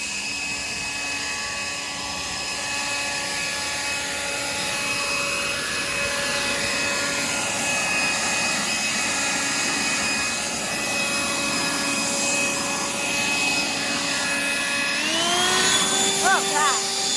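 A leaf blower roars steadily nearby, clearing spilled lawn fertilizer off sidewalks and driveways, a sustained whining drone that holds pitch for most of the stretch, then rises sharply near the end as the throttle is opened.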